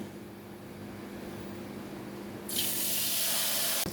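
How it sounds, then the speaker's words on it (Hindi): Hot tempering of garlic and cumin is poured into dal, breaking into a loud, bright sizzle partway through after a quiet kitchen background. "अब ये तड़कता फड़कता तड़का हम अपनी दाल में डाल देंगे।"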